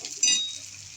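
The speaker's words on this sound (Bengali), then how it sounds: "তো চিকেনটা আলুটা এই পেঁয়াজটা আলুটা একসঙ্গে ভেজে নিলাম।" Chicken, potato and onion fry together in oil, giving a brief, soft sizzle with a light stirring scrape that swells quickly and then fades.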